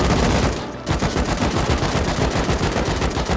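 Sustained automatic gunfire in the video game Rust as beds are shot out, a loud rapid stream of evenly spaced shots with one brief pause near the start, then continuous fire, close and with no talking.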